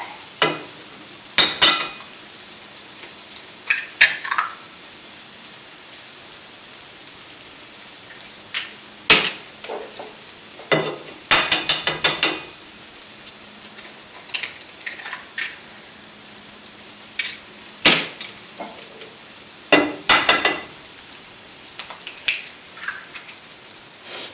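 Eggs cook in a frying pan with a steady, soft sizzle, broken by frequent sharp clinks and scrapes of stirring or utensil contact. The sound is close by and there is no talking.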